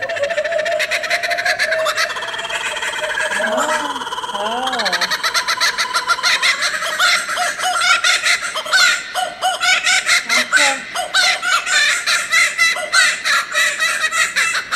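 A bird calls repeatedly in a dark outdoor spot at night, with rising, wavering cries heard through a busy, noisy background. People talk and shout in between the calls.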